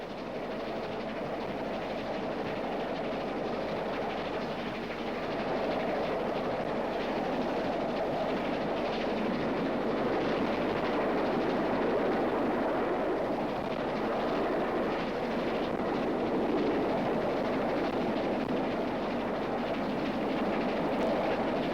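The 1958 'Bristolian' steam express train on the Paddington–Bristol route rumbles along steadily with a continuous roar and faint rhythmic clatter, heard from inside or nearby, with no break throughout.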